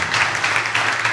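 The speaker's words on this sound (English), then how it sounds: "So a big round of applause for all of those individuals who've been behind and supporting it." Applause from an audience at a Fab Lab open house, a steady wash of many hands clapping, fairly close and continuous throughout.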